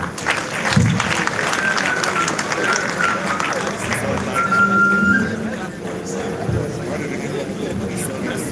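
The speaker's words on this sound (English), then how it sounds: "Please an applause for that." Applause rises from a crowd at a university Founders' Day ceremony, a dense sustained patter of clapping heard over voices and general hall noise, with a faint beeping tone in the background.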